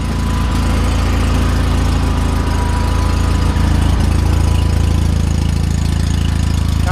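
A small gas engine idles right after start-up with the choke fully off, a loud, close, steady low chugging with a faint rhythmic knock and no talk.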